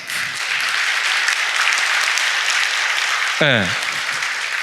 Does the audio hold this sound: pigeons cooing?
no